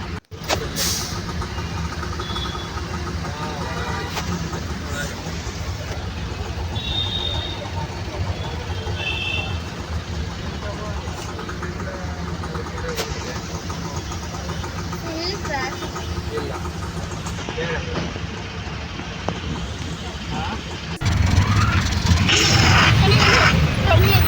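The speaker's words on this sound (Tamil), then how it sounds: "ஹெவி டிராஃபிக்காக இருந்துச்சு" Heavy road traffic heard from inside a moving auto rickshaw: a steady, dense rumble of engines and vehicles that swells louder in the last few seconds.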